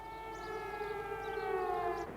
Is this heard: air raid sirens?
yes